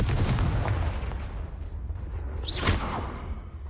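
A Confringo blasting spell cast in a wizard video game, a loud whooshing burst with rumbling booms and a rising swish, thick with low-end energy throughout.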